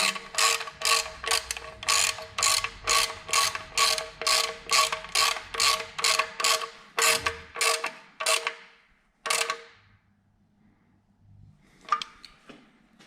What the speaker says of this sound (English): Now I'm going to tighten it with 13 millimeter wrench.